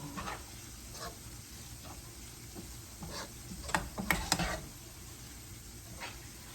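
Garlic fries in a pan with a soft, continuous sizzle, and a utensil stirs it in scattered scraping strokes that cluster around the middle of the clip, all fairly quiet.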